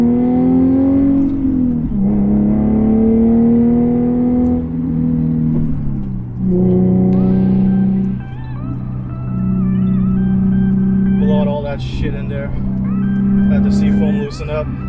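Infiniti G35 or G37 accelerating briskly on the road after a Seafoam treatment, with engine tones rising through several gear changes, loud and close from inside the car.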